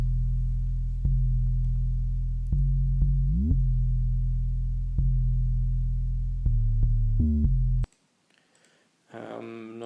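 Deep synthesized 808 bass notes repeat in a steady pattern, with a few quick one-octave pitch glides sweeping downward, ending abruptly before a brief bright burst.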